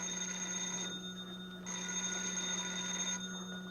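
A telephone ringing indoors, two long electronic ring bursts separated by a short pause, moderately loud and steady with no talk over it.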